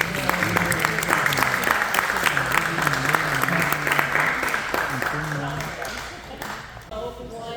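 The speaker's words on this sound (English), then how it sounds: "let's give our speakers a few rounds of applause" Audience at a voting rights event in Texas applauds the speakers: sustained, dense clapping with crowd murmur and a background tone, tapering off before a brief lull near the end.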